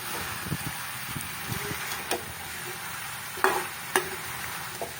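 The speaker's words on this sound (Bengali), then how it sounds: "লাউ দিয়ে একটু নেড়ে চেড়ে এটাকে কষিয়ে নেব" Bottle gourd being stirred and fried in a pan, with a soft continuous sizzle broken by several scraping strokes and sharp clicks of the spoon against the pan, close and fairly quiet, no talking.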